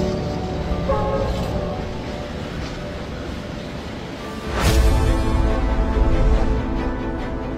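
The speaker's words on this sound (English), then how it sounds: "a fully loaded train with 32 of our 40-foot magenta containers traveling through Sweden." A long, fully loaded freight train carrying 32 forty-foot containers rumbles past through a Swedish city at night, its low heavy rolling growing louder partway through and continuing as a steady clatter.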